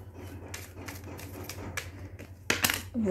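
Tarot cards being shuffled by hand and slipping, a series of soft papery flicks and taps against a low background hum, ending in a louder clatter of cards falling.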